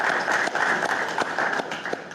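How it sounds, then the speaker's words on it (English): Brief burst of audience applause at an annual convention board meeting, dense steady clapping from a crowd heard close and continuous through the short span. "Let's give a round of applause for Rebecca."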